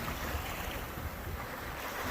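Wind rushes steadily while a sailboat runs downwind on Lake Huron with the head sail out in a following breeze of about 14 knots, waves washing around the hull in a constant, loud roar with no break.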